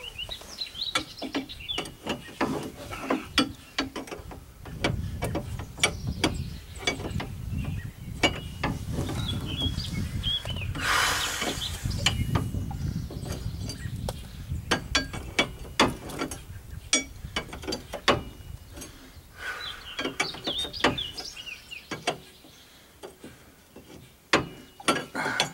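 Ratcheting wrench clicks and metallic mechanism sounds come from working on the front-end tie rod of a 2002 Chevy 1500 pickup. Bursts of ratchet clicks and clanks recur irregularly, close by, with no talk.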